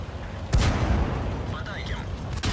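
Artillery fire in a tank video game, with a loud booming shot near the start and another burst near the end over a steady rumbling game background.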